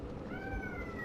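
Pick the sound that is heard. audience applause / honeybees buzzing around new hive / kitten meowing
kitten meowing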